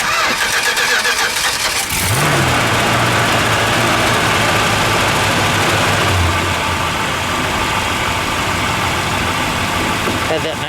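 The engine of a 1967 Chrysler Newport convertible cranks, catches and settles into a loud, rough, rumbling idle that runs on steadily, close by, with people talking over it.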